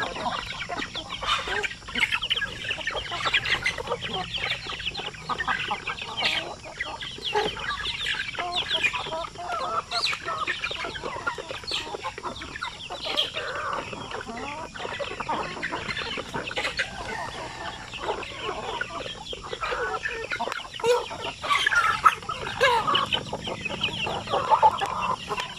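Native chickens at a breeder's farm range area cluck continuously in a busy flock, with occasional roosters crowing among them, fairly close and steady with no talking.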